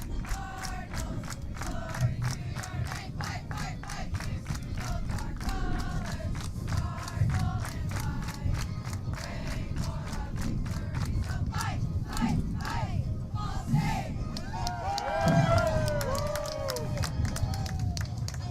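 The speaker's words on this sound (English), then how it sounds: "we got the crowd here celebrating with the players" After a college softball game between Ball State and Toledo, the crowd cheers and celebrates with the players, with shouting, clapping and excited voices blending into a lively, continuous din and a few higher yells rising out of it.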